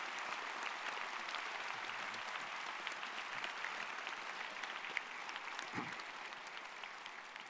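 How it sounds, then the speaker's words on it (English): At a Nicolet high school graduation ceremony, the crowd gives a long round of applause for teachers, staff and administrators, a steady, faint, distant patter of many hands that never lets up. "offer a round of much-deserved applause"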